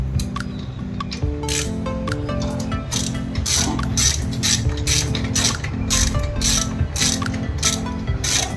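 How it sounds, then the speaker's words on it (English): Ratchet tightening the axle bolt while fitting a motorcycle tyre hugger, a loud close run of regular clicking strokes repeated steadily with no voices. "Now you just tighten up the axle bolt."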